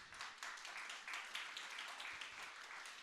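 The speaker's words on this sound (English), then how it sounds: "I would like a really big round of applause for your block captains" Audience clapping for 29 block captains at an annual community meeting, a steady, dense round of applause lasting the whole stretch at moderate, somewhat distant level.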